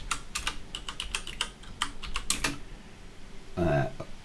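Rapid clicking keystrokes on a computer keyboard as a report title is typed into desktop software, a quick burst of taps then a pause, with a brief voice at the end.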